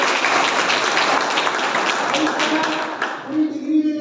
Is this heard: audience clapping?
yes